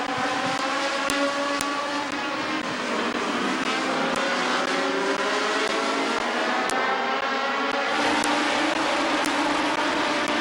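Race cars circling the Midvale Speedway oval, a dense, steady engine roar from several cars at once with layered droning tones that rise and fall as they power off the turns, loud and continuous throughout.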